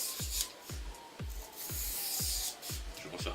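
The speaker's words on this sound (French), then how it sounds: "Pour commencer, je vais couper mon polystyrène." A blade cuts 5 mm Depron polystyrene foam into sections, producing a run of short, rasping strokes in a regular rhythm of about seven cuts, close and fairly quiet.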